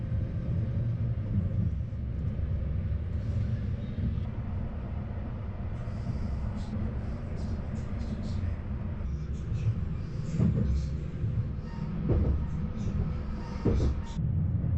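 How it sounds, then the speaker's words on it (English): A continuous low train rumble fills the scene at a station on the Pustertalbahn line between Lienz and Brunico, with faint squeals and clanks rising later as the cars begin to move. "it's fully 20 minutes later when the train actually pulls away"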